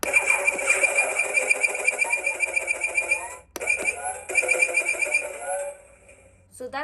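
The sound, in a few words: Star Wars Toybox Slave 1 toy ship shooting sound effect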